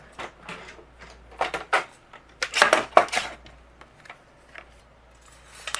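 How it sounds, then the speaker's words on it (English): A paper trimmer cuts through card stock in a series of short, close scraping and clicking strokes, with a louder burst in the middle and quieter handling noises after. "I'm going to use my paper trimmer, and we are going to trim this out."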